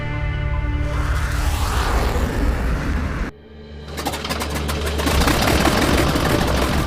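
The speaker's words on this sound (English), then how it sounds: "Few sounds in aviation create an emotional connection quite like the roar of a radial engine." Aircraft radial engine roaring loud and steady, a continuous low rumble with dense broadband noise, briefly dipping near the middle before building again to full strength, with no voices.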